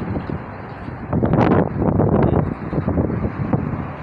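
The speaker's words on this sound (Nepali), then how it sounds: "आज चाहिँ हावा चलिरहेको छ" Steady wind blows across the microphone in Kuwait, gusting louder after the first second with broadband rushing and buffeting that continues to the end.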